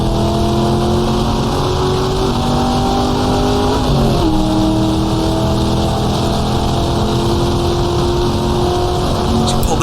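Loud 1966-era Alfa Romeo sports racing cars in the GTR2 game at Monza roar steadily and close, with a constant engine drone and a brief dip and shift in pitch near the middle. No one talks.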